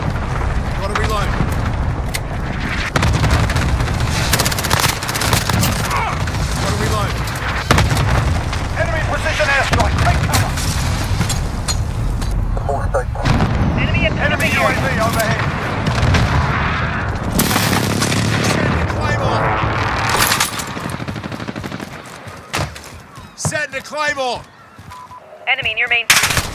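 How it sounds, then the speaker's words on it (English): Call of Duty Modern Warfare Domination match with a cluster strike: heavy explosions and bursts of machine-gun fire rolling continuously and loudly, with voice callouts mixed in and a quieter stretch near the end. "Enemy cluster strike incoming"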